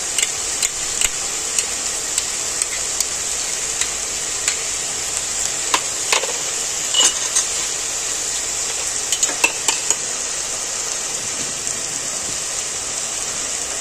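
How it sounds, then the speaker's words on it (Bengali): Snake gourd and shrimp fry uncovered in a pan with a loud, steady sizzle throughout. Scattered clicks and light scrapes of stirring sound over it. "আমি আর ঢাকা দেবো না, এরকমভাবেই ভাজবো।"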